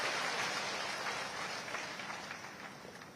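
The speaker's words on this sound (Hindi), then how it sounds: "श्रीमती द्रौपदी मुर्मू जी का एक बार जोरदार तालियों के साथ अभिनंदन करें" Distant crowd applause at Mangarh Dham in Banswara, Rajasthan, welcoming the President: a faint, steady patter of many hands that holds for several seconds and slowly fades.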